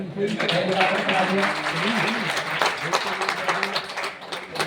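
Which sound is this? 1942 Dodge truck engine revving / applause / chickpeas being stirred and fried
applause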